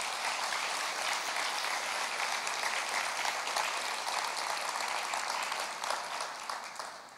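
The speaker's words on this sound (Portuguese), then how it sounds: "Será que você pode honrar essas pessoas dando uma salva de palmas?" A church congregation claps together in sustained, dense applause that holds steady and loud before easing off slightly at the end.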